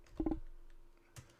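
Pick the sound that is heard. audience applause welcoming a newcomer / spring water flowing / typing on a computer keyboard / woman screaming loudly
typing on a computer keyboard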